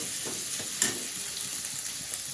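An egg fries in hot oil in a home kitchen, giving a steady close sizzle throughout with a few soft scrapes and stirs of a utensil.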